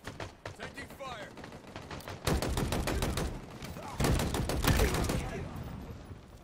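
Bursts of automatic gunfire in a Halo Infinite Capture the Flag match, rapid rattling volleys that grow louder and denser partway through, with game sounds layered between them.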